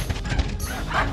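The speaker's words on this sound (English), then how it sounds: "Puppy!" Short yips and bow-wow barks from a cartoon puppy in the animated film Hotel Transylvania 3: Summer Vacation, loud and close over busy soundtrack noise, lasting about a second.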